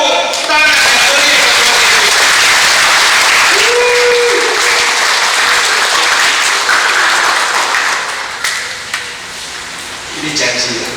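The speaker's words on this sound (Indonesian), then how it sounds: "beri tepuk tangan, beri" Church congregation applauding during an Indonesian sermon, a dense steady wash of clapping that runs loud nearly the whole time and tapers slightly near the end, with a few voices and brief shouts mixed in.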